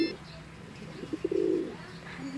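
Racing pigeons coo during training, a few soft low throaty coos in the middle, close and brief over quiet background with faint voices nearby.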